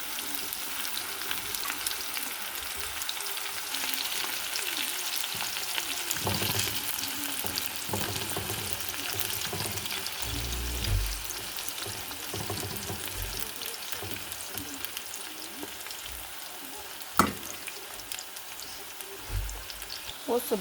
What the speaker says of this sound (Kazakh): Осы баклажансы қызартыңқырап қуырамыз